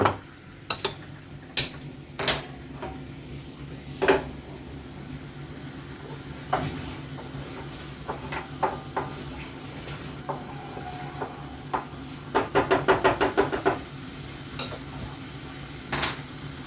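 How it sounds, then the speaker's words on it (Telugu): Onions and green chillies chopped on a board in a home kitchen, with a run of sharp knife knocks, some spaced and some in a quick burst near the end, along with a few clinks of pans. "ఇక్కడైతే చాపింగ్ స్టార్ట్ చేశాను. చకచకా ముందు ఉల్లిపాయలు పచ్చిమిర్చి కట్ చేసేసుకొని"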